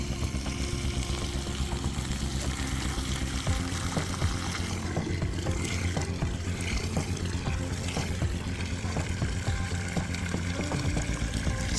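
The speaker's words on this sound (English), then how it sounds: "Then fill the container with rainwater or dechlorinated water." Rainwater or dechlorinated water pouring steadily into a bucket of chopped leaves and compost, a continuous close splashing gush that runs unbroken throughout.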